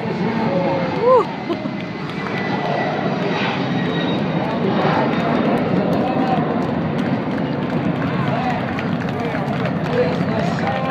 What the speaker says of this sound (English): No, it's already off the ground. Airplane is airborne.